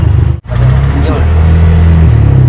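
Truck engine running loud and close, a sharp cut-off as a gear is shifted, then a steady rising drone, with people talking over it.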